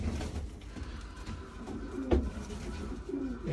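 Pigeons kept in a loft coo softly at close range over a steady low murmur of background noise, with one brief louder call near the middle.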